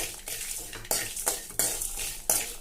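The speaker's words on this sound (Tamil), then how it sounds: "கொஞ்சம் தேங்காய் சேர்த்துக்கலாம், சேர்த்து வறுத்துக்கலாங்க" Dried red chillies and coconut dry-roasted in a pan for a kovakkai fry, with a rough scraping hiss and a series of distinct spatula scrapes against the metal, close up and with no voices.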